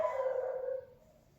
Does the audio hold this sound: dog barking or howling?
yes